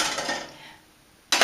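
A metal pot handled while cooking a roasted vegetable curry with shiitake mushrooms, giving a brief clinking knock that fades over a second, then a sharp metallic clatter at the end.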